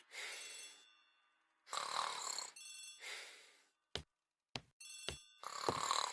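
An old-fashioned hall telephone in the Agatha Christie ABC Murder game rings in repeated bright, trilling bursts separated by short pauses, interrupted by a few sharp clicks, with no voices.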